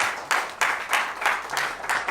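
A church congregation applauds, a short burst of moderate clapping that comes in several quick swells.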